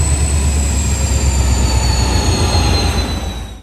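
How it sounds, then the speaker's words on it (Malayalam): A train pulls into a railway station with a loud, steady rumble of wheels on track, thin high squeals from the wheels drawn out across the whole stretch, no voices. "പിന്നെ ടിക്കറ്റൊക്കെ എടുത്ത് നമ്മുടെ ട്രെയിൻ എത്തി"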